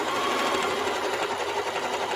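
Up close, a sewing machine stitches steadily back and forth through a quilted placemat, giving off a continuous, even mechanical whir with a fast stitching rhythm and no talk over it.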